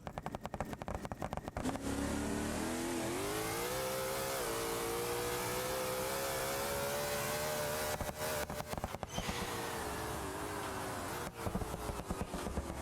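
A C6 Corvette ZR1 engine in a BeamNG drag race game, revving hard and accelerating with a rising continuous roar through gear changes, loud and unbroken throughout.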